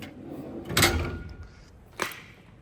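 A roller drawer on a 27-inch toolbox for a race trailer slides and thuds shut, followed a second later by a second sharper knock, close by over steady room noise.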